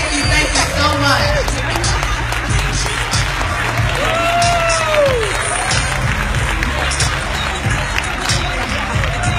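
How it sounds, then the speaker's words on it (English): A keynote audience gives sustained, dense applause mixed with crowd noise, filling the room continuously and loudly, while a voice talks over it. "So get up, clap your hands"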